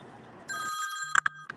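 Telephone bell ringing in short trilling bursts, a sustained ring followed by several quick pulses, fairly quiet and clear.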